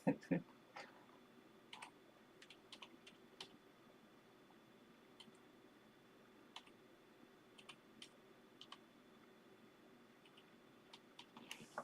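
A computer keyboard being typed on while entering a password: sparse, quiet key clicks in short irregular bursts across a hushed room.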